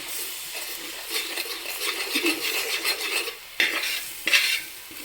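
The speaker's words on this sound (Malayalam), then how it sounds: "ഇനി നല്ലപോലെ നമുക്ക് ഇളക്കി കൊടുക്കാം കുറച്ച് നന്നായിട്ട് അങ്ങ് ഇളക്കി കൊടുക്കാം" Chopped eggs stirred in a pan with a utensil, a steady scraping and sizzling close by with a few sharp metallic clinks near the end, no voices.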